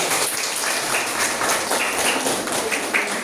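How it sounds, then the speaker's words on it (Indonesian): Children in a classroom applaud together, a dense, even patter of many small hands clapping at moderate volume for a few seconds, with no talk over it. "Tepuk tangan buat anak-anak."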